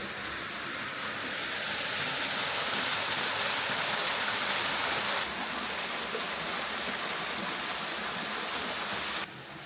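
Water from a beautiful creek near St Helens, Oregon rushes in a steady, close broadband wash with no pauses, like a fast stream or small cascade, running alone without voices for the whole stretch.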